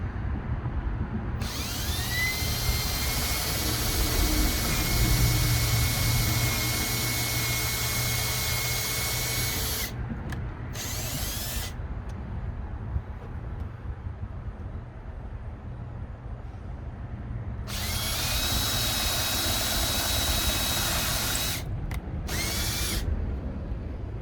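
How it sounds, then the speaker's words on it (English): A power drill bores pilot holes while a backyard privacy door handle is mounted, two long high whining bursts separated by a quiet pause, each ending with brief trigger blips, close and loud. "Drill your pilot holes."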